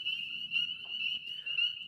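Little tree frogs, spring peepers, call in a dense chorus of high, steady peeping notes, with a faint low murmur beneath.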